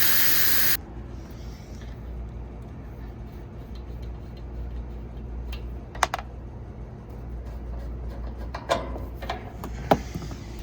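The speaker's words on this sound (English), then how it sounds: "release the nitrogen inside the system back to its home in the atmosphere" Pressurized nitrogen vents from an air conditioning condensing unit system in a loud, sharp hiss that cuts off abruptly after under a second, leaving a quiet stretch dotted with small clicks and taps.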